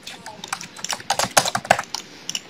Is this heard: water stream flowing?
no